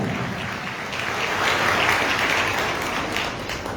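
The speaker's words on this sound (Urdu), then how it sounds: "تو میں آپ سب کی زوردار تالیوں میں آپ سب کو عید مبارک، عید پاشکا مبارک کہتا ہوں۔" A church congregation applauds at Easter Sunday Mass, a dense, steady wash of clapping from many hands that swells slightly midway and carries on throughout.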